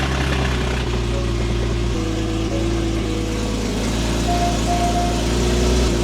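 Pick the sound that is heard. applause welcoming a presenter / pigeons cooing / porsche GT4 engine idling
porsche GT4 engine idling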